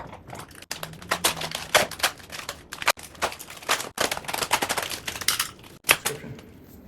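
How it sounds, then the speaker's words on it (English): Old webbing on patio furniture being cut away: a close, rapid run of sharp snipping and tearing clicks with brief pauses, with no talking. "Next, let's get this old webbing off of here, So I'm just gonna cut it."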